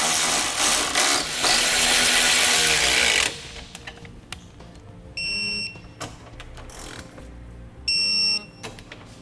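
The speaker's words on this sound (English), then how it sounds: "Then we'll move to our M10 bolts," M10 bolts are tightened and torqued on Westin E-Series nerf bar brackets on a 2016 Chevrolet: a loud burst of power-tool whirring for about three seconds, then quiet clicks and two short electronic beeps.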